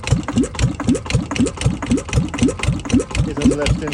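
A wooden boat's engine under repair, which fails to crank through full revolutions, chugs in quick uneven pulses about twice a second. The rough knocking rhythm is close and steady throughout.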